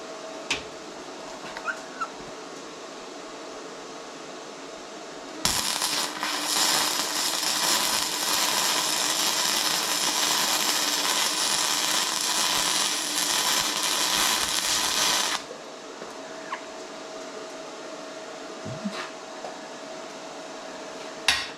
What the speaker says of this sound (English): do a little test run on this piece of plate steel here. And just see what the different welds look like